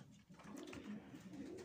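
Pigeons in a quiet loft give soft, low cooing calls in a few short rolling phrases, heard close but faint, with no talking.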